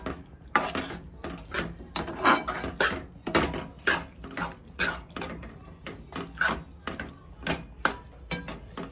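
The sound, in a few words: stirring beetroot mixture with milk in a pan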